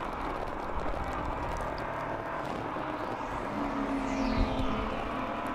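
Race cars at the Sebring endurance race, a ChampCar Endurance Series event, keep up a steady engine drone around the track, with one car sweeping past near the end.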